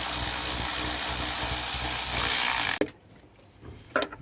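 A socket wrench working bolts on a vehicle, a dense run of rapid ratcheting clicks that stops abruptly, followed by quieter scattered clicks and a short burst near the end.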